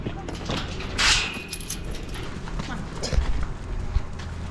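A pig walks out of a shed in an old milking parlour converted into a piggery, its trotters clip-clopping on a hard floor in an uneven patter beneath faint, indistinct voices.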